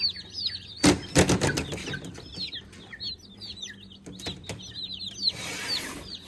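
High, chirpy peeps repeat throughout from a group of ducklings, mixed with a few rustling thumps and flutters nearby.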